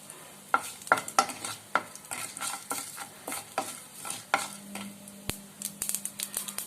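Urad dal, mustard seeds and curry leaves crackle and pop in hot oil for a spinach chutney tempering, with sharp irregular spits and snaps over a soft sizzle, close up and with no voices.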